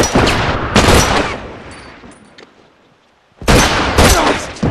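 Rifle fire in The Last of Us during a multiplayer supply raid on the University map: loud, close bursts of rapid shots, then a fading lull before another heavy volley erupts.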